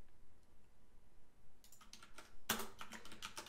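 Computer keyboard typing during a game jam coding session, quiet at first, then a burst of rapid key clicks building into dense, loud clattering in the second half, with no talk.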